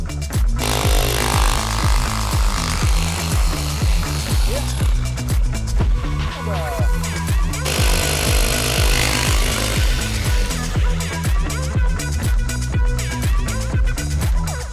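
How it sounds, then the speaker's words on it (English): A powerful 1100-watt hammer drill pounds against mountain rock in a loud, fast, continuous rhythm of heavy percussive blows, with grinding and chipping throughout. "this drill hammer is 1100 watts"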